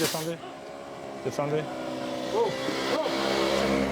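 Vehicle engine idling and revving at a roadside checkpoint in Cameroon, a low steady hum under occasional shouted voices and short bursts of talk.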